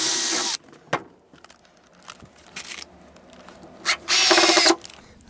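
A power drill drives a screw into a model railroad leg spreader, with two loud whirring bursts at the start and end and a softer brief spin between, close by in a quiet workshop.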